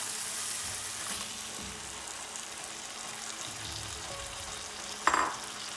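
Spinach fries with onions, tomato and spices in a pan for a tofu curry, making a soft, low, even sizzle close by, broken near the end by one sharp utensil clink.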